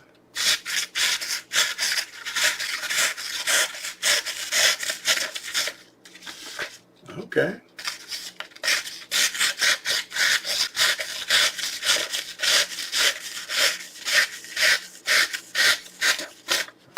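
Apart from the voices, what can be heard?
SOG Voodoo tomahawk cutting paper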